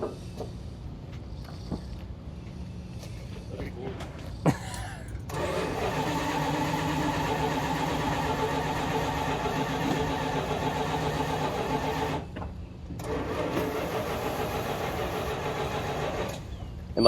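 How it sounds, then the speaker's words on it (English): A 1974 Plymouth Barracuda restomod engine cranks on a jump box without firing, in two long, steady, droning bursts with a short pause between, and a few brief voices before it. "I'm gonna put a jump box on it and see if I can get it to start."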